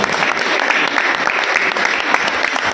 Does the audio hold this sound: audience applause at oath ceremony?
yes